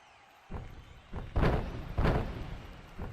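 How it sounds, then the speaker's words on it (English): A wrestler stomps on his opponent in the middle of a wrestling ring, several heavy thuds landing at irregular intervals, loud and close, one after another over a low crowd murmur. "Now a stomping on Koa right in the middle of the ring."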